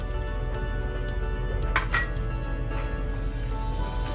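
Tomatoes and soaked tamarind pulp with its juice go into a pan of cooked masala for a spicy Andhra fish curry, with a brief cluster of clinks and scraping around the middle over a steady low hum.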